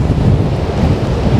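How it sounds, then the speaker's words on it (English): Strong coastal wind at Porthcawl buffets the microphone in heavy, low gusts, with a dull roar that may include surf, all loud and close for a brief moment. "The wind is blowing straight from behind the camera."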